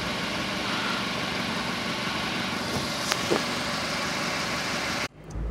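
A 2015 Nissan Versa sits idling with a steady, even engine hum that holds at a constant level for about five seconds, then cuts off abruptly near the end.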